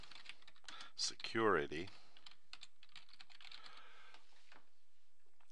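Keystrokes on a computer keyboard while entering a search term into a bookmarking tool, with quick clicking taps and a person speaking partway through.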